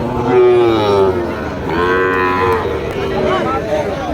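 Sahiwal bulls tethered in rows at a rural cattle market bellow in loud, drawn-out moos, with several long calls overlapping one another over a steady background of crowd noise.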